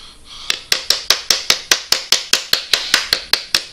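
A rubber mallet strikes a Makita battery pack about fifteen times in a steady, even rhythm, each blow a sharp, close knock that fades quickly before the next.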